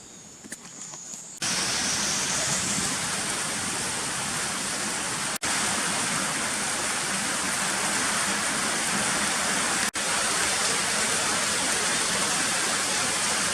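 Steady, heavy rain pours at night in the Brazilian countryside, a dense, even hiss that starts abruptly after a quieter moment and continues unbroken, close and loud, with two brief dropouts.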